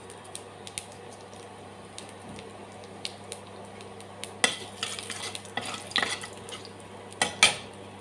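Whole cumin seeds hit hot oil in a wok, starting a crackling sizzle with spattering bursts and light clinks of a utensil, quiet at first and then louder and busier.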